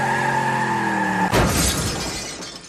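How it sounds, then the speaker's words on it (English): A car slams into the exterior wall of a parking garage, a sudden loud crash and shatter breaking over a steady engine tone, then settling into a fading rattle of debris. "must have jammed down on the gas pedal and then smashed the car into the exterior wall of the parking"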